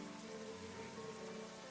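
Rain in the video game Zelda Twilight Princess makes a soft, steady patter on surfaces. It is faint and brief, with no talking.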